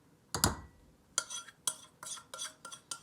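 Butter being stirred into a cheesecake crust mixture in a bowl, heard as a handful of short utensil scrapes and clinks, a louder one first and then a quick irregular series, close and fairly quiet.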